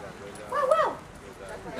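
A voice imitates a dog's bark, a short 'guau guau' in a storytelling session for children in Benalmádena, heard as a brief pair of voiced barks mid-clip over a soft room background.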